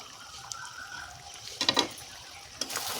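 Chicken and tomato for a country chicken curry fry quietly in oil, a soft sizzle broken by a few short bursts of stirring scrapes.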